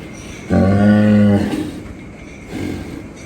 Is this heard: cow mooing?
yes